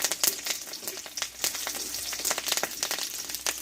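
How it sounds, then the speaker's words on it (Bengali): Panch phoron spices and green chillies fry in hot oil, giving a busy, close crackle of rapid pops and spits over a continuous sizzle, fairly loud and unbroken by speech. "আর এই তেলে হাফ চামচ মতো দেবো পাঁচফোড়ন"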